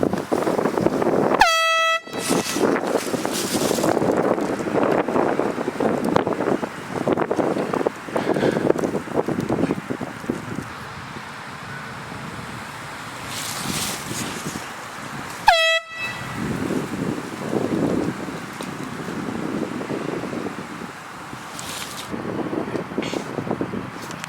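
Two sharp, loud air horn blasts ring out about fourteen seconds apart on a golf course, set against steady outdoor wind noise and rustling.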